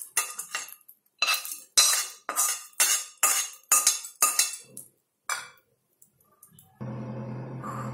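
Seasoning being mixed into rice with raw spicy mango pulp, a spoon clinking and scraping against a metal bowl in a run of sharp, rhythmic strokes, then a brief pause and a steady low hum.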